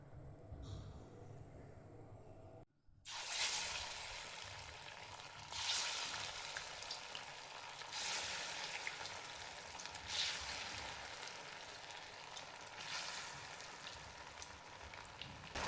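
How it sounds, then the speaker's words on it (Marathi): Poha vadas deep-frying in hot oil give a steady, moderately quiet bubbling sizzle that starts abruptly after a short quieter stretch and continues evenly, with occasional louder swells. "बनवायचे झालेले आहेत, तळून घ्यायचे।"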